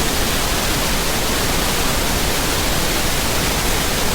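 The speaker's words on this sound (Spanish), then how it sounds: "Este sería el ruido rosa." Pink noise plays as a loud, steady, even hiss across the whole clip, unchanging from start to finish with nothing else present.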